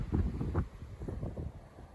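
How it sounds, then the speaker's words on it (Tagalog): Strong wind high up buffets the microphone in heavy, rumbling gusts, loud and continuous with no voices. "Ang lakas ang hangin nito sa taas."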